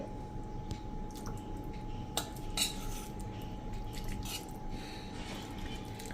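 Tomato chutney being spooned into a serving bowl, soft wet squelches with a few light clinks of metal spoon against the dish over a quiet background.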